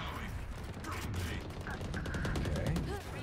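Video game gunfire, with a rapid burst of mechanical, ratcheting shots and clicks at moderate level over a continuous background, with no talk.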